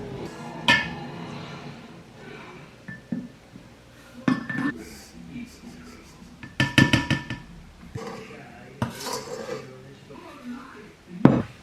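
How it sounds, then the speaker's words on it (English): Whisk clinking and scraping against a bowl while mixing baking soda with grated Castile soap, irregular bursts of clatter and rattles at close range, with a voice talking intermittently between them. "Now I'm just whisking it all together so it all gets mixed up."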